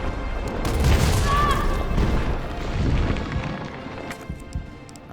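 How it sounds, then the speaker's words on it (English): A railgun fires in a video game, a heavy booming blast with a long rumbling tail that fades out over several seconds, loud and close. "we want a good shot with that railgun"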